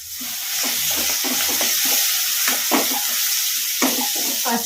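Green chillies and coriander fry in a pan with turmeric, giving a loud, steady sizzle. Scraping stirring strokes recur throughout, with no voices.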